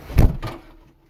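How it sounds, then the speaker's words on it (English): The cab door of a KIOTI CX2510 tractor swinging shut, one close, solid thump followed by a brief rattle that quickly fades into a quiet interior. "Close the door here"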